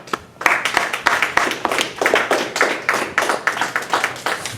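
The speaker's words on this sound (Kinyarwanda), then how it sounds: "mushobora gukomera Imana amashyi." A church congregation claps in a steady, rhythmic beat. The claps are sharp, evenly spaced and close, and a few voices sound faintly underneath.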